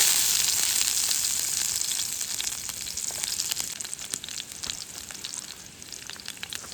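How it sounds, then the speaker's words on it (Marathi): Chili and garlic fry in hot oil at a campsite, a steady loud sizzle with crackling spits that eases slightly toward the end, no voices over it. "पहिला ऑइल टाकू, तेल टाकू पहिलाच, त्याच्यानंतर मिरची आणि लसूण."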